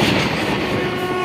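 Kakatiya Express, a special train between Secunderabad and Bhadrachalam Road, running near Nekkonda and Warangal: a loud, steady rumble and rattle of rolling carriages with a sustained hum, continuous throughout.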